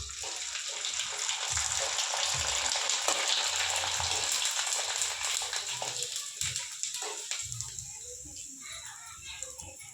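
Sabudana and potato papads deep-fry in hot oil, producing a steady, fairly loud bubbling sizzle that eases slightly over time, with low speech breaking in now and then.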